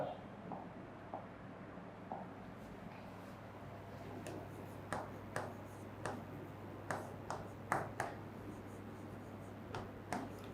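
A pen writing accounting entries on paper, a steady soft scratching with sharp taps and strokes scattered throughout, close and quiet against a faint background hum.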